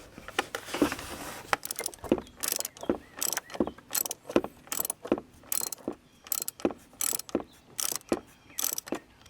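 A ratchet fitted with a screwdriver bit adapter works on a fastener in a Cub Cadet charging system, giving repeated quick clicking bursts in a steady rhythm, close and crisp, with no talking.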